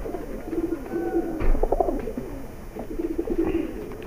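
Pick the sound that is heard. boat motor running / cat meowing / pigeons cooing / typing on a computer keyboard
pigeons cooing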